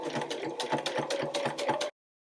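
A sewing machine stitching a fabric mug rug runs in a fast, even mechanical whir with rhythmic clatter, close up, for about two seconds before stopping abruptly.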